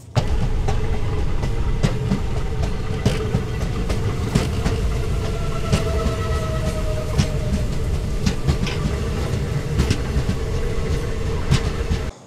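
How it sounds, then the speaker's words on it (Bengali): Teesta Torsa Express train running at night toward Khagraghat Junction, a steady loud rumble with clickety-clack rail rhythm throughout, sounding from inside or close to the moving carriages, with no talk. "ফাইনালি গল্পের ইতি টেনে তিস্তা তোরসা এক্সপ্রেস আমাকে পৌঁছে দিল খাগড়াঘাট জংশনে"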